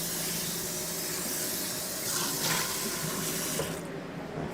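Water runs steadily from a kitchen tap as a stoneware dish from Target Home is rinsed beneath it, a continuous close splashing with the stream shifting in pitch near the end, no talking.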